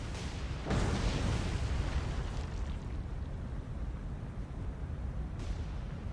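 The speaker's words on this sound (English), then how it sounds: "we got 2 torpedoes coming for this one" Torpedo strikes on a merchant ship in the naval combat game War on the Sea, rendered as a sudden deep explosive boom that swells into a long rumbling roar, with a second fainter burst near the end.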